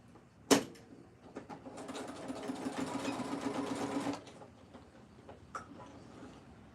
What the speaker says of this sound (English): I'm just gonna fold that under and tuck that in and stitch that down as well.